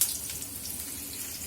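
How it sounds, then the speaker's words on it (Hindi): Pointed gourd (parwal) frying in a pan, a steady soft sizzle with a fine crackling hiss, close and even throughout without talk. "ये मैं परवल फ्राई कर रही हूँ।"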